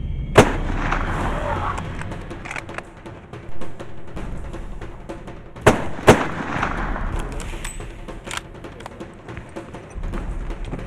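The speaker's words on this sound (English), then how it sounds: "Now you shoot him between the eyes." Rifle shots during an elephant hunt in Botswana: several sharp loud cracks, one early and two close together midway, over outdoor rustle and faint murmuring.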